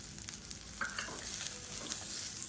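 Grated coconut, urad dal, chana dal and curry leaves roast in a pan with a close, steady sizzle and stirring scrapes.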